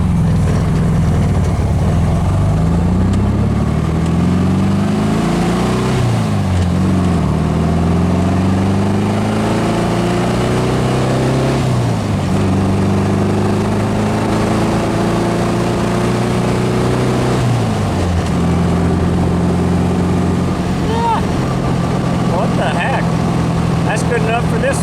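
A 1776 single-port engine car idles at a stop sign, its low steady rumble shifting pitch a few times as revs rise and settle, loud and close throughout with no talk over it.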